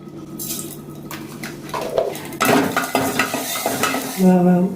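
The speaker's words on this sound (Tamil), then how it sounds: "ரசம் தாளிக்கிறதுக்கு எண்ணெய் ஊற்றிருக்கோம் கடுகு போட்டுக்கலாம்" Crackling, popping sizzle of mustard seeds tempering in hot oil for rasam, with stirring and metal utensil clinks against a pan, growing louder toward the end.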